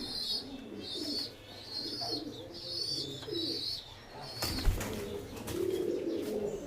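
A pigeon from a loft is let go, with a brief burst of flapping wings near the middle amid repeated low coos and light chirps nearby.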